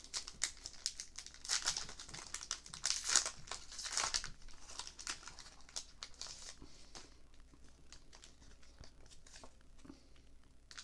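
Foil wrapper of a Pokémon Scarlet and Violet 151 booster pack being torn open and crinkled close up, bursts of sharp crackling that are busiest early, then settle into sparser rustles.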